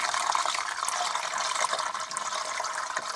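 Water gushes and splashes steadily from a loosened drain pump filter on a Whirlpool AWM9000 washing machine, a continuous close pouring hiss with small fluctuations throughout.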